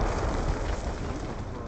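A grenade blast in Black Ops II fills the scene with a loud, sustained rumbling roar that stays dense and steady throughout, with no clear separate strikes and no voices breaking through.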